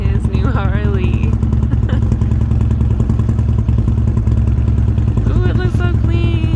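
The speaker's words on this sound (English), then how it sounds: "he's about to do his first ride away on his new Harley." A new Harley-Davidson motorcycle runs with a loud, steady low engine rumble throughout, close by, with people's voices and excited shouts over it.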